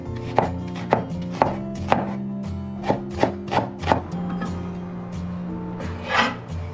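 A knife chops garlic slices and diced onion on a cutting board, about ten crisp, fairly evenly spaced strikes close by, with a softer scrape near the end and no talking.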